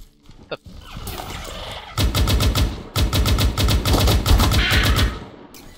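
Rapid automatic gunfire from the Firefall video game rattles in loud, closely spaced bursts, with a brief pause between the main volleys and a few scattered shots before them.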